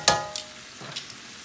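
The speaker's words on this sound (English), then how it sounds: "And we're going to put the garlic. Stir it around a little bit." Garlic frying in a pan as it gets stirred, with a quick sharp scrape, a soft sizzle underneath and a few lighter clinks, close and brief with no voices.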